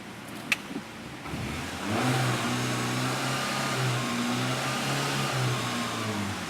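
A car engine idles, then is revved and held at steady high revs during an exhaust emissions test. A droning hum runs under a couple of brief clicks at the start.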